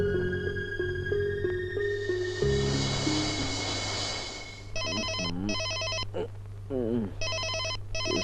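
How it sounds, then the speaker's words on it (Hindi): A telephone rings in a dramatic Hindi film scene, repeated electronic ring bursts in a steady on-off pattern emerging after a stretch of background music and a voice. "किसका फोन है इस वक्त?"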